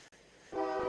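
Train rumbling past nearby, a low steady rumble that swells into a louder grinding, rattling roar with tonal hums toward the end.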